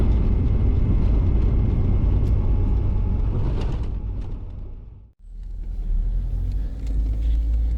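A Lada Niva drives slowly toward a riverside campsite in autumn Siberia, its engine rumbling steadily close by, dipping briefly before the low drone resumes.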